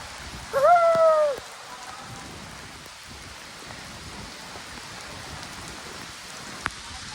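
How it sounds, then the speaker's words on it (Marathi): First monsoon rain of the season pattering steadily on surfaces in a village, with a short high-pitched animal cry near the start and a single sharp tap later. "हा पहिल्यांदाच पाऊस आहे पहिला पाऊस आहे"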